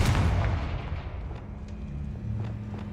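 A Confringo fire spell bursting in Hogwarts Legacy, a heavy booming blast at the start whose rumble decays over a few seconds, with faint game ambience after.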